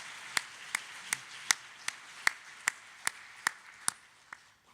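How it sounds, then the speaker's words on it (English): Clapping at a 2024 admitted students day event: about eleven crisp, evenly spaced claps in a slow, steady rhythm, fairly close and clear over a quiet room. "give one more round of applause for the amazing 9 up here who spent some time with us"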